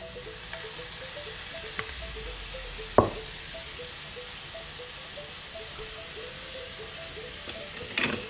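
Chicken sautés with soy sauce and a little sugar in a pan, a constant close sizzle and hiss broken by a few sharp spatula knocks and stirring scrapes, no talking.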